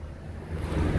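Wind rushes past a moving 2019 Kia Sportage, a steady broadband roar with heavy low-end buffeting that swells louder toward the end, with no talking.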